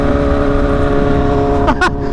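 Straight-piped engine with no exhaust, likened to a Kawasaki H2, droning loud and steady with a rising rev burst near the end.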